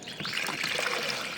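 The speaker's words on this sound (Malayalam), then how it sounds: "ഈ മുഴുവൻ വെള്ളവും നമ്മുടെ സ്പ്രേയറിലേക്ക് ഒഴിച്ചു" Water is poured from a container into a battery-powered sprayer tank, a soft, close, continuous trickle and splash that runs on its own with no talk.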